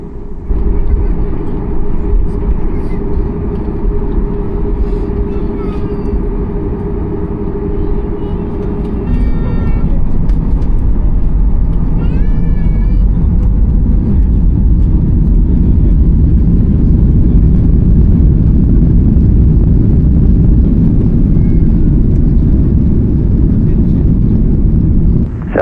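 Southwest Airlines jet taking off from a Las Vegas runway, heard from inside the cabin as a loud, steady low engine roar that swells and holds throughout, with radio voices faintly over it.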